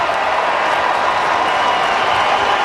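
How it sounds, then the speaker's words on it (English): A stadium crowd at a football game roars loudly and continuously, a dense wash of cheering and clapping with no let-up from start to finish. "The roar of the crowd."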